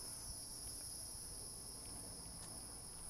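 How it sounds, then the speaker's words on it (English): A cicada high in a tree on a nature walk gives a loud, steady, continuous high-pitched drone that holds unbroken throughout, with faint low rumble beneath and no talking. "That indeed is a cicada."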